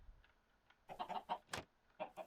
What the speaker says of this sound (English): No chickens, I cannot give them to you. I'm sorry, chickens.